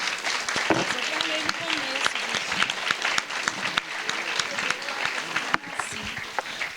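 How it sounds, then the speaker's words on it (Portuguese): Lively audience applause at the close of a conference talk at an international aesthetics congress, sustained crowd clapping with sharp individual claps and some voices underneath. "palmas, né?"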